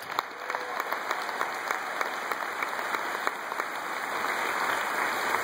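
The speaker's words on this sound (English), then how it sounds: "So give yourselves another round of applause" A crowd at an American Cancer Society Relay for Life event applauds steadily. The clapping stays even and moderately loud throughout, with a faint constant electronic whine underneath.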